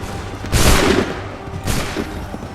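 Muskets fire in volleys on command in an Assassin's Creed war battle, with two loud ragged cracking bursts about a second apart and a rumbling din of battle between them.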